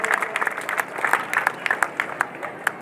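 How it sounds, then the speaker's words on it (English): An audience at a street demonstration in Amsterdam claps for churches, a loose, moderate round of individual hand claps with audible separate strikes, fading to sparse claps toward the end. "I ask you to applaud for all these churches, please, for the great job"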